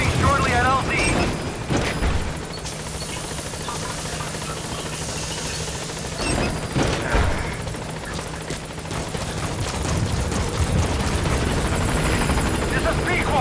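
B-Quad support helicopter arriving at a landing zone in Metal Gear Solid V: The Phantom Pain, a steady rotor drone mixed with game ambience and scattered booms and impacts, with a radio voice talking over it.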